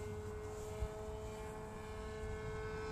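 Giant RC F-117 model plane in windy flight, its propeller giving a steady, even drone at moderate distance with no voices.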